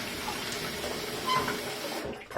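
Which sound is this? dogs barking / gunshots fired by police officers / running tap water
running tap water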